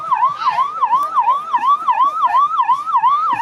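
An ambulance siren wails loud and close in a rapid, repeating up-and-down cycle amid a protest crowd at Jantar Mantar in Delhi, with faint street noise underneath.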